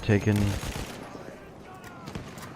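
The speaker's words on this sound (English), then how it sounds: "take some shots to the fence, see if I can't hit anybody" Gunfire in the video game Battlefield 1 cracks out in a quick burst of shots through a fence, followed by softer distant battle noise, with a voice talking over it.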